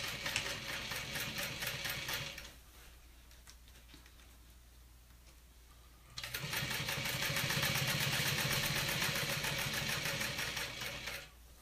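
Sewing machine stitching a fabric pouch in two steady, rapid bursts of close, loud mechanical whirring, separated by a short quiet pause.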